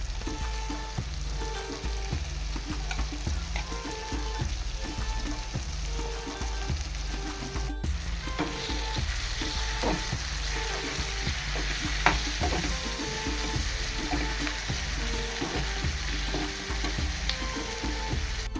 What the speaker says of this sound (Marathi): आता ते सुंगट घालता.